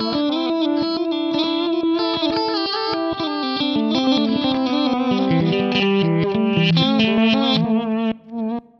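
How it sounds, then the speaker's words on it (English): Electric guitar played through the reverse delay mode of a Digitech Timebender pedal, with swelling, backward-sounding distorted notes and a dense echo wash layered over a continuous melodic line, loud and steady, alone without voices. "So the reverse sounds like a reverse delay."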